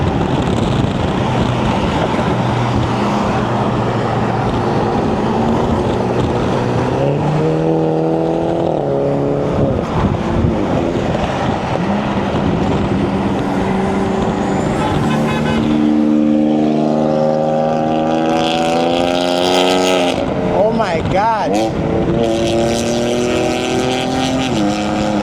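A BMW 340i with the B58 engine pulls hard on the road, its exhaust roar rising and falling through gear changes, loud and continuous from inside the car.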